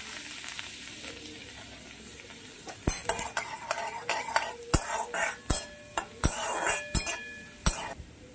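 Washed and drained mung dal frying in hot oil in a pan, a steady sizzle broken by sharp metal spoon scrapes and clinks as it is stirred, close and fairly loud.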